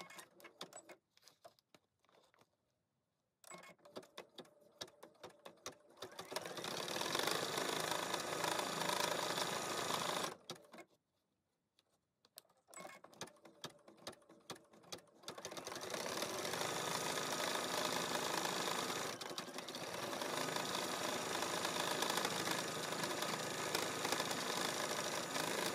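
A Brother Innovis embroidery machine stitches a sleeve with a steady, close mechanical whir in long bursts, broken by short pauses and quiet gaps between runs.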